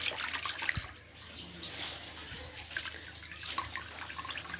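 Soaked parboiled rice is rinsed by hand in water, soft splashing and sloshing with faint drips, close and fairly quiet with no talking.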